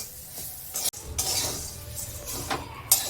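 Flattened rice being stirred in a pan with dried chillies, curry leaves and fried green chilli, with scraping, soft sizzling and a few utensil clinks against the pan.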